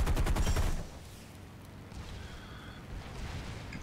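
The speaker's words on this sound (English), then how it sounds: "I like the sound though of the machine guns, of the 50 cals" In the War Thunder flight game on an F4F-3 Wildcat, .50 cal machine guns let off a loud rapid burst that stops after about a second, leaving a quieter engine and wind drone.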